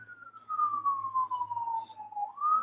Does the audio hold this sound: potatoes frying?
no